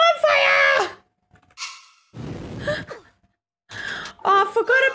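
Heavy breathing of the character in Tomb Raider II Remastered, a few loud gasping breaths and sighs with pauses between, close and prominent with no talk.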